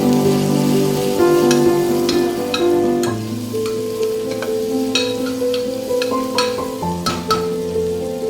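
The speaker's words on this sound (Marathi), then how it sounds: "आता आपण त्याच्यात थोडंसं मीठ आणि हळद टाकूया. ते छानपैकी हलवून घेऊया." Mutton curry masala frying in a pan with salt and turmeric, being stirred, giving a steady loud sizzle with scraping stir strokes and clinks throughout, no voices.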